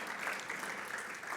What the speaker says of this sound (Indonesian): Tepuk tangan lagi bagi Tuhan Yesus Kristus.